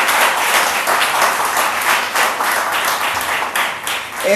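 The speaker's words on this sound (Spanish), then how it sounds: "Ríndanle un aplauso al Cristo que ha de venir pronto" A church congregation applauding after a call to clap for Christ, a dense, steady wash of many hands clapping together that carries on for several seconds and fades slightly near the end.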